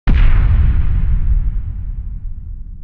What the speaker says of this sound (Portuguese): a gente tem o som de explosão